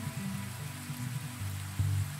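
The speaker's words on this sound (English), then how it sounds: "Rain's everywhere." Steady rain patters across the soundscape of the video game Stamp It, a continuous soft hiss with low tonal game music droning underneath for a couple of seconds.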